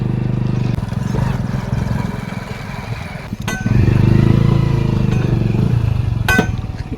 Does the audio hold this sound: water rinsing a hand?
no